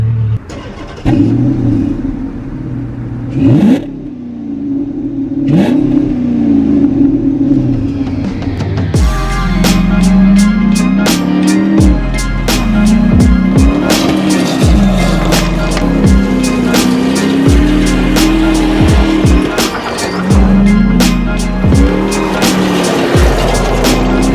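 A 2006 Dodge Charger R/T V8 cold-starting on E85 fuel: a few cranking attempts and brief catches, then the engine fires and settles into a loud, lumpy idle with repeated revving blips, close by.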